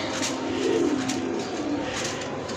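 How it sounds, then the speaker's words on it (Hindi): Soft, low cooing of a Rampuri Teddy pigeon in a continuous murmur, close and steady against a faint background hiss. "ये हमारे पास जो है वो रामपुरी टैडी में से जो है वो कबूतर है"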